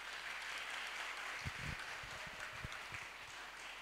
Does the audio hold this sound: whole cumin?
no